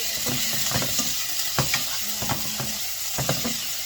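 Chicken pieces sizzle steadily in a hot pan for lumpiang shanghai filling, with a continuous bright hiss and a few soft stirring scrapes and clinks over it.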